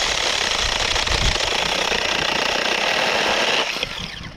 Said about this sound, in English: it's a nice little saw